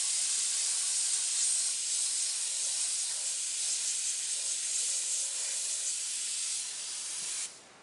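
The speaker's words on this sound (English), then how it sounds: "I'm just spraying right on the white" Aerosol can spraying candy tangerine paint over white stencil areas, a steady, close, loud hiss running continuously for several seconds before cutting off abruptly near the end.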